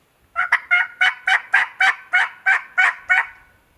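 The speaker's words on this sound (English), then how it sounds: "Mountain turkeys, baby." A wild mountain turkey in Colorado gobbles in a fast run of about eleven rhythmic pulses, close and clear against a quiet background.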